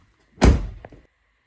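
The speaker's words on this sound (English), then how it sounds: "Let me close this door and see how it looks from the inside." A car's driver-side door swung shut from inside the cabin, landing as one solid close thunk with a brief rattle of the panel afterward, then quiet.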